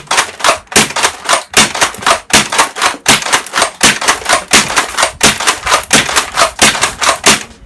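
An Artifact Breech foam dart blaster fires darts in a rapid, even stream of close, punchy pops, about two to three per second, with no talk.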